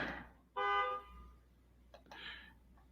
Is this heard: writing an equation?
no